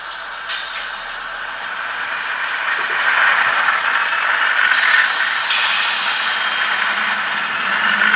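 An N scale ScaleTrains GE Tier 4 GEVO model locomotive climbs a grade on model track, a steady whirring motor hum with light rail clatter that grows slightly louder, heard alone up close.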